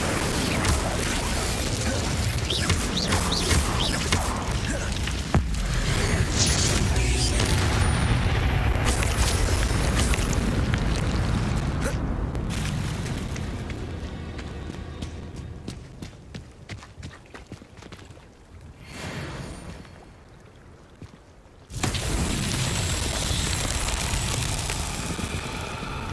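Confringo and Incendio spell blasts in Hogwarts Legacy, loud repeated fiery bursts and booms over dense combat noise, fading to a quieter stretch before a sudden strong blast returns.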